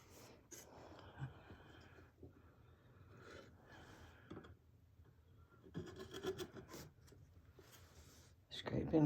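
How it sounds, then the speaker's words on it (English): A tool scrapes excess faux encaustic finish off a painted landscape surface in quiet, uneven rubbing strokes that grow louder near the end. A voice talks softly throughout. "Scraping off the extra."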